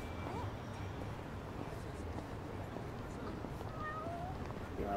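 Cat in Yakuza: Like A Dragon giving a few faint, short meows over a steady low background hum.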